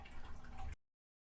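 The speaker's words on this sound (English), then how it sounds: "if y'all hear water in the background, I just realized that. But if y'all hear that, it's a fish tank" Water runs and trickles in a home fish tank, a fairly faint wash of splashing that stops abruptly partway through.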